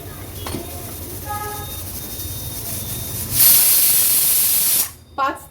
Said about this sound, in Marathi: झाकण लावून पाच ते सहा याच्या शिट्या आपण काढून घेणार आहोत